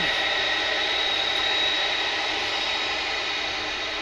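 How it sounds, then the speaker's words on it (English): A UPS MD-11 jet aircraft at Dallas/Fort Worth International Airport roars with a loud, steady engine whine and broad rushing noise, continuous and close, with no speech. "This is a UPS MD-11."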